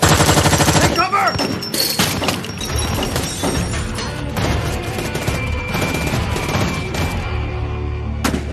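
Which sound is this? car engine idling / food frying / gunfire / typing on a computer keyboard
gunfire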